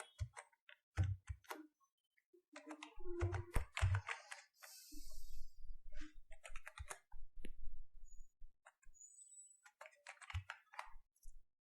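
Typing on a computer keyboard while filling in pharmacy software company details, a quiet, irregular run of clicky keystrokes in short bursts with brief pauses between them.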